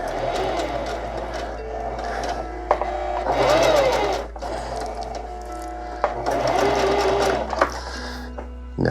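A sewing machine runs steadily and close by, stitching the hem of a DIY bridge hammock, with its motor whirring continuously and small clicks and shifts over several seconds.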